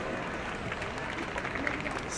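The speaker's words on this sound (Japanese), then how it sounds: "盛大な拍手を送りください。" Audience applause fills a hall at a projection mapping awards screening, a steady, dense wash of clapping from many hands that stays even throughout with no break.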